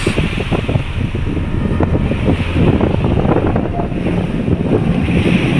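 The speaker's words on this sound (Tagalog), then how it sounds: "Lakas, grabe, lakas ng hangin." Strong wind on Manila Bay roars and buffets against the microphone in a constant, heavy rumble, with faint water and boat noise blending into the gusts.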